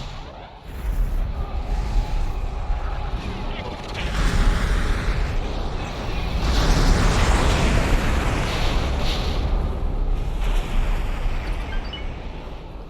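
Missile explosions in the space combat game Star Wars Interworlds, a loud continuous roar of blasts and whooshing bursts that swells midway and stays dense throughout.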